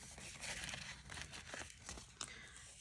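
Cash goes into a paper medical envelope with close, quiet crinkling and rustling of paper and a brief sharper crackle near the end. No one speaks.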